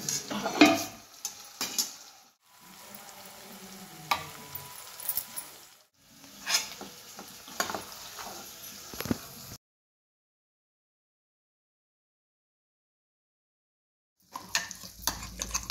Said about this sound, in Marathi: त्यानंतर मग कढईमध्ये थोडंसं त्याच तेलामध्ये मी माझं हे वाटण सगळं टाकून दिलं आणि गिरवी परतण्यासाठी ठेवली